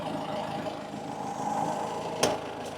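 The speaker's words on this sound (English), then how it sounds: "you'll see now that that engine is getting unmeasured air." A diesel car engine with a blocked particle filter idles steadily and close with its intake boot pulled back to draw in unmeasured air, producing a constant rumble and faint hiss with one brief sharp click near the end.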